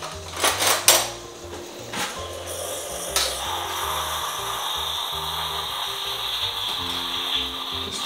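Spoon stirring a Tassimo cappuccino in a cup, a few sharp clinks against the side at the start, then a quieter steady swirl with occasional light taps.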